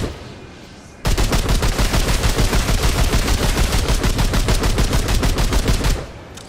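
Rapid automatic gunfire from the Remnant 2 video game at its in-game firing range, a loud sustained burst of evenly spaced shots lasting about five seconds and starting abruptly after a quiet moment.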